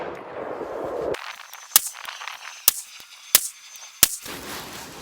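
Four sharp, loud gunshots from a PSA 18-inch .308 Sabre AR10 rifle fired at an outdoor range, spaced roughly evenly apart, each a crisp crack with a short tail, after a burst of ambient noise.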